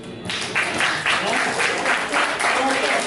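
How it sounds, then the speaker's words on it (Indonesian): A classroom of students claps for a classmate during a lesson, a few quick rhythmic bursts of clapping, fairly close, with a teacher's voice briefly heard over it. "Tepuk tangan buat Safwan."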